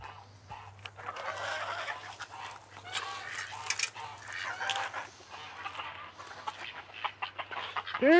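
Chickens cluck and squawk in a farmyard pen where they scratch around, a busy, close chorus of overlapping calls with a low steady hum beneath and no talk.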